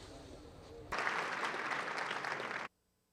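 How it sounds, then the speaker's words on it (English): Audience applause at a UN population conference opening ceremony, a dense steady clapping that swells at about one second, holds loud and ends abruptly, with quieter background murmur before it. "A round of applause, please."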